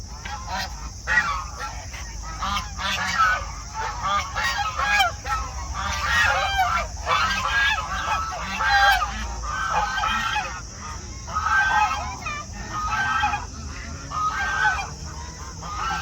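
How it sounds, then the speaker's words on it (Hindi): A flock of ducks and geese honks and quacks continuously at a pond, loud and close, with calls overlapping throughout and no clear talk. "भाई बहुत सारी डक्स हो गई ये तो"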